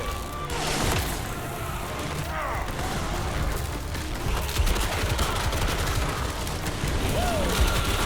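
Turret gunfire in the video game Crimson Desert comes as a steady, continuous clatter of rapid shots under a busy battle din, with bright whooshing effects and a voice now and then.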